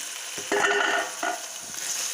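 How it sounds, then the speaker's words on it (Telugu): Bottle gourd curry fries quietly in a pan with a soft sizzle, broken by a few short bursts of stirring and scraping, with no voices. "ఇంకొక వన్ మినిట్ ఫ్రై అవ్వనివ్వాలి"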